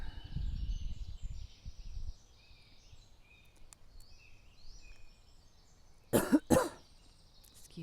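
A person leading a morning breathing and movement session coughs a few harsh times close to the microphone, then a long quiet stretch before a second short burst of coughing and throat clearing.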